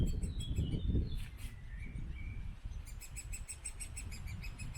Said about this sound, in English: I like the sound that bird's making.